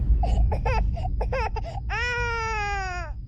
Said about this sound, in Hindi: बच्चे के रोने की आवाज